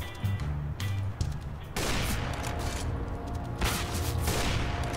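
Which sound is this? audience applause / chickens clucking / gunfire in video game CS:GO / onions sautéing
gunfire in video game CS:GO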